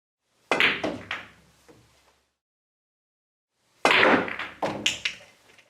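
Waxed cue ball struck on a pool table, two separate bursts of close, sharp clacks followed by short rolling thuds, with silence between them.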